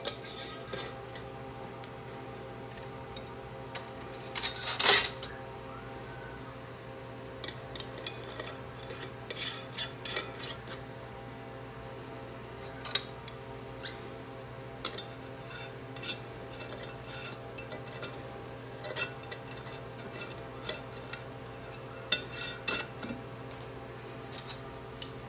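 Metal rings screwed onto glass canning jars of lobster stock make faint, scattered scraping and clinking sounds, with one sharper clink early on, over a quiet steady room hum.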